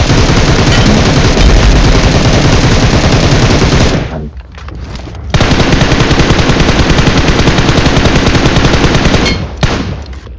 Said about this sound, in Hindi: पीछे के साइड से कुछ बंदे आ गए होते हैं जो कि मेरे पे ही फायर कर रहे होते हैं